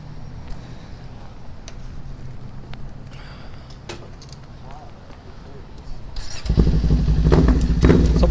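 A motorcycle engine fires up close by, a sudden loud rumble that settles into a steady idle over its final seconds, following quieter shuffling and handling noises.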